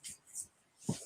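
A short, sharp snorting sneeze from a dog, preceded by a couple of faint huffs, close by and otherwise quiet.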